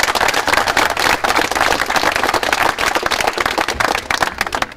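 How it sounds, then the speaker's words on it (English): A crowd at a Forgney versus Carrick match claps loudly and steadily in thanks to the team's sponsors, a dense, close burst of applause with no talk. "So just a round of applause for them."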